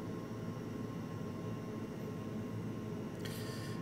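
A BAe Hawk T1 jet in flight gives a steady, even broadband roar throughout, with a brief brighter burst near the end.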